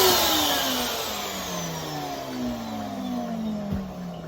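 A 2024 Numatic George wet-and-dry vacuum cleaner winds down after being switched off, its motor whine sliding steadily lower in pitch, fairly close and moderately loud.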